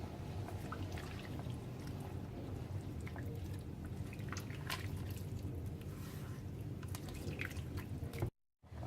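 Rice being stirred in a pot with water, chicken cube and salt for paella gives a soft continuous wet sloshing and squishing with faint drips, steady throughout before a brief cut at the end.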